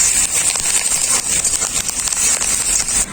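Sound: curry leaves frying with onions in oil

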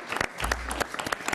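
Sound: audience applause for Roxane

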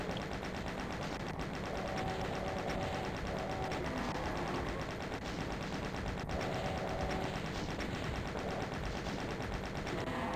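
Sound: machine gun fire in video game Doom 2

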